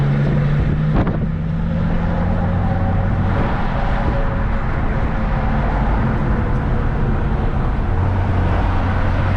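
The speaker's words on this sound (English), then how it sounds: "It's warm, but it's windy." Wind buffets and roars loudly around a Hyundai Genesis Coupe 3.8 on a warm, windy day, a constant heavy rumble with a low engine drone underneath and no talking.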